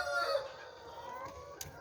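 Chickens in a room at a community chicken farm in South Korea give short clucks and drawn-out calls, fairly close and moderately loud, with no talking.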